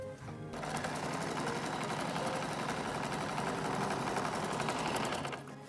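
A sewing machine running steadily for several seconds as it stitches a petticoat seam, a close, fast, even mechanical whirr that starts abruptly and keeps a continuous rhythm until it slows at the end.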